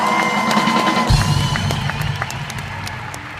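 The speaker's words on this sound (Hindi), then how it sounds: "चंदन के लिए जोरदार तालियां हो जाए एक बार" A studio audience on a comedy show applauds and cheers for a performer, with steady dense clapping, scattered whoops and a busy, crowded hum throughout.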